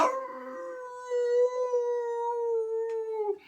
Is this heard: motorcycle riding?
no